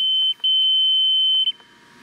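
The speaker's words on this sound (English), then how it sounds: "when we did the net wrap cycle, when we wrapped it, so you can hear that buzzer" A John Deere 560M baler's cab buzzer sounds after the net wrap cycle, a steady high electronic tone held for about a second, briefly breaking and resuming, then stopping, loud and close.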